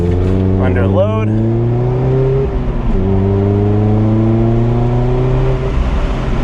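A Mazda Miata ND pulls away after a U-turn, its engine droning loud and close with steady rising pitch, a shift pause midway, then a sustained climb; a voice speaks briefly over the engine.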